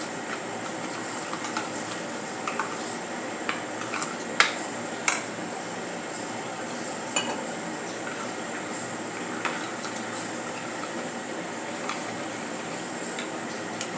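Spice powders are stirred with water into a paste in a bowl: sparse, light clicks and taps of a spoon against the bowl over a faint steady hiss, with no talking.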